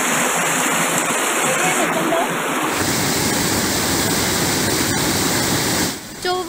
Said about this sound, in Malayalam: സംരക്ഷണ ഭിത്തി തകർന്നതാണ് വീടുകളിലേക്ക് വെള്ളം കുത്തിയൊലിച്ചെത്തിയത്.